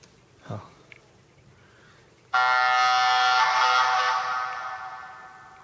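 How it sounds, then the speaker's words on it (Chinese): An alarm-like warning ringtone plays on an HTC HD2 phone, a loud buzzing electronic tone that starts abruptly after a brief voice and faint sounds, holding steady and then tapering slightly. "它会有一种好像铃警告声。"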